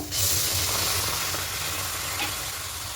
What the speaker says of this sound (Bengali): কড়াইটা আগে থেকে বসিয়ে দিয়েছি সামান্য একটু জল দেব